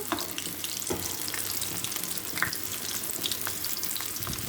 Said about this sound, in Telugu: ఇప్పుడు ఇవి ఫ్రై కావచ్చాయండి.